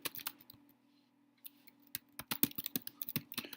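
Computer keyboard typing a search, quick irregular clicks in short bursts after a brief quiet stretch with a faint steady hum underneath.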